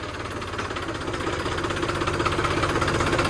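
A tractor engine runs at a potato farm with a steady, throbbing diesel chug that grows slightly louder over a few seconds, heard close and without voices.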